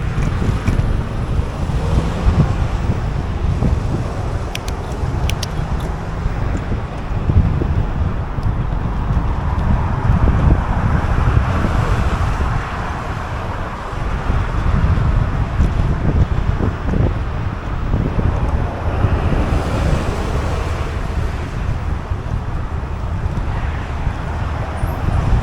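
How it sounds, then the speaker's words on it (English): Strong, steady wind roars across the microphone while riding beside the ocean, with gusts surging and easing over a continuous low rumble that fills the whole stretch, no voices heard. "So the wind's coming from the west, from the ocean, so which is the way I'm riding. So this is pretty loud."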